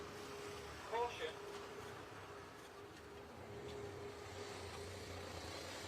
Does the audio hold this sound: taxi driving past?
yes